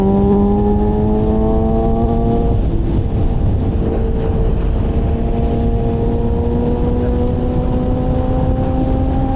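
Motorcycle on a highway accelerating hard to pass a car, its engine note rising steadily and loud under heavy wind roar, with a brief dip in pitch partway through as it shifts gear, continuing to climb.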